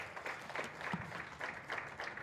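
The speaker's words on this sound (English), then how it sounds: "give another round of applause" Audience applause at the closing ceremony of an experts' meeting session, a steady wash of many hands clapping together at moderate, fairly distant level, with no speech over it.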